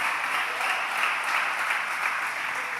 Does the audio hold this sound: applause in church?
yes